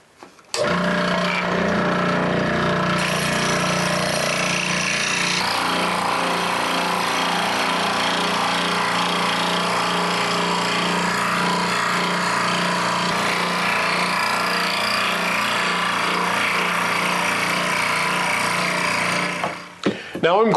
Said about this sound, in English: I have my scroll saw set up, I've tightened it down, and we're just ready to cut these radiuses out now.